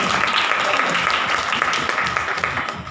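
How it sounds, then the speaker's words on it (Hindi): Audience in a Hindi church Bible study clapping together in praise, a dense steady patter of many hands filling the room at close range. "ताली बजा के प्रभु के नाम को महिमा करें"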